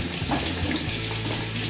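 A kitchen water tap runs steadily into a sink while juice extractor parts are rinsed under it, a continuous close splashing rush.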